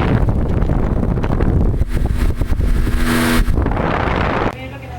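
A vintage 1972 Rotron Caravel fan blows strong airflow, heard from about 10 to 12 feet away as loud, gusty wind buffeting the microphone. It fades near the end.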